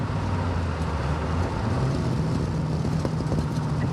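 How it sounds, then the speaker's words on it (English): A restored 1953 Chevrolet 3100 five-window pickup is under way, its exhaust giving a continuous low, throaty drone mixed with road and wind rumble, holding a fairly even level throughout. "when you have the cutouts open, the exhaust is definitely louder"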